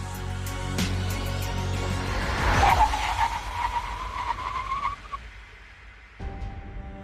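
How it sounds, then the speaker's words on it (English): A BMW 5 Series brakes hard in an emergency stop from 100 km/h, its tires skidding with a rising squeal that peaks and then fades as the car halts, heard up close. "3 real-life emergency stop scenarios from 100 kilometers per hour."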